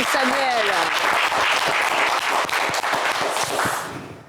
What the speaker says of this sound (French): est-ce que le public peut applaudir quand même